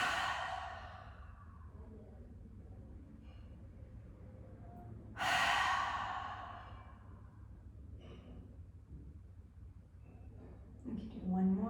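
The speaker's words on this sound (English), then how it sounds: "And exhale through the mouth." A person exhaling through the mouth while lying on the floor during an Ashtanga yoga session, giving one loud breathy sigh in the middle, with quieter breaths and soft background hum around it.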